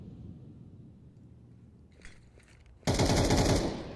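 In a Counter-Strike match, an AK rifle fires a sudden loud automatic burst lasting under a second, following a quiet stretch with faint distant shots.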